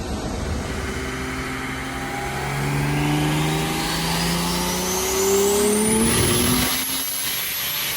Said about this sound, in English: Now it's time to hit the dyno.